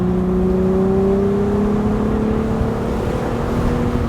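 A Plymouth Prowler pulls hard along an empty country road, its engine note rising steadily and loudly from inside the cabin as it gathers speed, with no talking.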